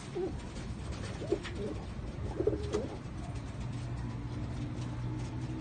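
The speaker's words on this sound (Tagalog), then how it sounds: "Ayan na, tinutuka na nila yan mga kaibon." Pigeons gathering at scattered feed give a few soft low coos, with faint pecking and light outdoor background noise throughout.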